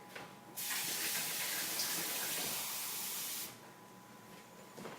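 Water runs from a kitchen sink tap for about three seconds, a steady bright hiss that starts and stops abruptly, heard up close in an otherwise quiet kitchen while cold water is measured for pastry.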